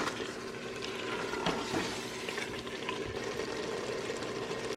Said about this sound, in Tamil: சிக்கன் சேர்த்தாச்சு. இப்போ வந்து நல்லா ஒரு 5 மினிட்ஸ்க்கு ஃப்ரை பண்ணி விடுவோம்.